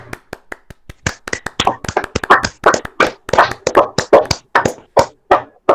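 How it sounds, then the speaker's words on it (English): A played-in round of applause of sparse, separate claps that builds into fast, dense clapping by a small group, sharp and close, with no voices. "I wish we could give them just a round of applause"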